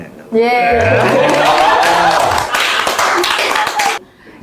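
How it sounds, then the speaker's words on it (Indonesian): Hands clap in a brief burst during a casual talk-show chat about natural gas, the claps mixed with a person speaking and chuckling over them, then fading out near the end. "tepuk tangan."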